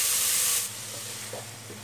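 Carrot, sweetcorn and olives sauté in a pan with a steady hiss. The hiss starts bright and fairly loud, then settles into a softer sizzle with a few small pops.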